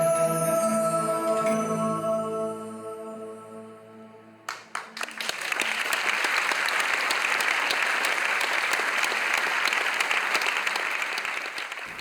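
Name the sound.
London audience applauding Astana Ballet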